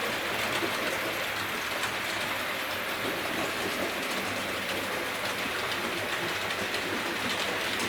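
A model steam locomotive, Blackmoor Vale, hauls southern carriages along a layout track, giving a steady rolling rumble with faint rhythmic clatter that runs continuously and evenly throughout, with no voices.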